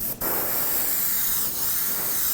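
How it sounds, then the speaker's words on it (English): An airbrush loaded with candy-colour paint sprays in a steady, close hiss that runs almost the whole time, with a brief break near the start. "always spray your airbrush before you go on there"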